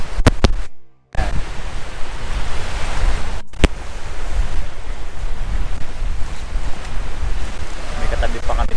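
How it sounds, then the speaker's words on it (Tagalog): Strong wind roars steadily across the microphone at a lakeside campsite at Little Bow Lake, Alberta, with broadband gusting noise throughout and a brief dropout near the start. "Lakas ng hangin ngayon."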